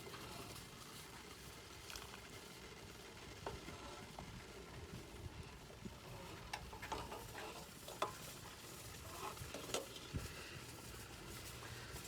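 Birch sap boils down into syrup in a pan, making a faint continuous bubbling sizzle with scattered soft stirring scrapes and taps, quiet and close, no talk.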